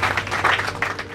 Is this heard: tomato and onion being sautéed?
no